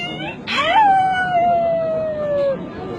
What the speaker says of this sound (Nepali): अब कुकुरको बच्चा